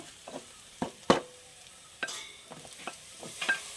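Tomatoes going into a hot pan with green chilli and onion, a spoon scraping and stirring in scattered knocks while a faint sizzle runs underneath, close and moderately quiet.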